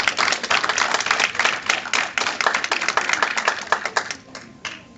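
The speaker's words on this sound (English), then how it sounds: "So can we give them a round of applause as well?" Applause from an audience at a high school event, a dense patter of hand claps that starts strong and thins out toward the end, with no talking.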